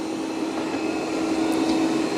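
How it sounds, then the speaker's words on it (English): A Roomba 105 robot vacuum cleans carpet with a steady, close motor whine and an even airy hiss that holds constant throughout. "let's see how the Roomba 105 is going to vacuum up this carpet"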